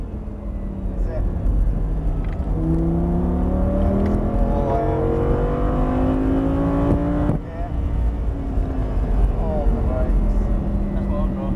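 An Audi R8 V10 driving on a race track, its engine revving up and down through gear changes in a steady loud drone, with a voice talking over it throughout.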